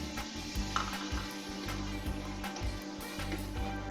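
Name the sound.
tomato puree frying with sautéed onions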